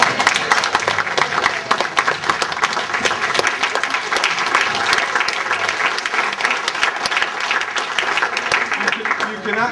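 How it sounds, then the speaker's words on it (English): Wedding guests applaud loudly and steadily at a reception during a speech, dense crowd clapping filling the room for about ten seconds with voices mixed in. "everybody should stand up and clap Trinea for the way she is."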